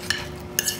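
Spoon stirring banana oatmeal walnut cake batter in a bowl, two quick clinking scrapes against the bowl with soft mixing in between, close and alone.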